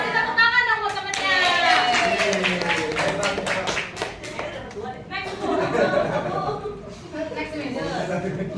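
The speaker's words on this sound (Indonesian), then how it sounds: "Kasih tepuk tangan dong buat temennya." A university class claps for a fellow student, rhythmic close hand clapping under chatter, laughter and voices talking throughout.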